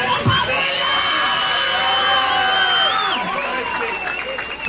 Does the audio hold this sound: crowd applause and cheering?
yes